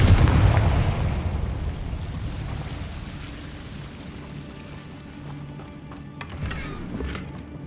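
A Confringo blasting spell bursts in Hogwarts Legacy, a loud explosive impact at the start fading into a long crackling, rumbling tail with faint clicks and pops later.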